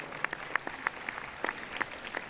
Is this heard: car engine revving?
no